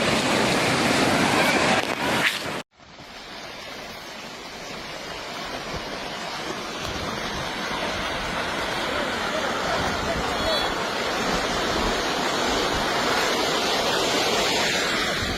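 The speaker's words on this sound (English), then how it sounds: "The roar of this landslide is so powerful that it sounds like a raging river." A landslide gives off a powerful, steady roar like a raging river, a dense wash of noise that cuts out briefly near the start and then holds loud and unbroken.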